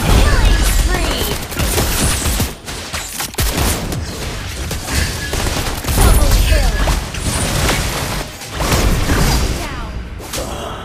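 Rapid gunfire bursts and whooshing effects from a Mobile Legends match, dense and continuous with thuds and booms layered over game voice lines and chatter throughout.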